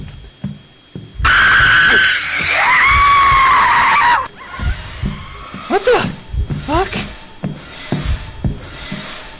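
A monster called the Shriek screams in the Dungeon Nightmares horror video game: a loud, sustained, wavering shriek of about three seconds, then several shorter rising cries, with a voice talking underneath.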